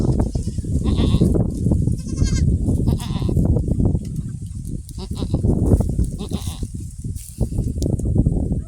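Goats, including a newborn kid and its white mother, bleat repeatedly and loudly up close, overlapping cries with rustling and shuffling in the background.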